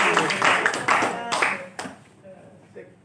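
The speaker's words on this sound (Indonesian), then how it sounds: "Tepuk tangannya mana?" A short burst of audience clapping at an Indonesian discussion session, loud at first and then thinning out into scattered claps as a voice talks over it.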